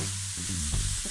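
Lasagne ingredients frying in a pan: a brief, steady sizzle with a low hum and a few soft clatters, moderately loud and close.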